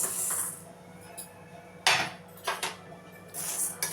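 Urad dal poured into a hot, dry kadai for roasting, with a few sharp rattling bursts of lentils scattering against the metal pan amid quieter stretches.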